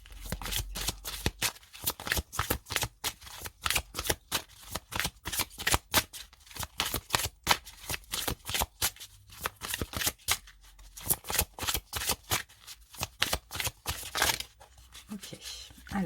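Tarot cards being shuffled by hand in a steady, rapid series of crisp riffling bursts, close and fairly loud, with only faint traces of a voice.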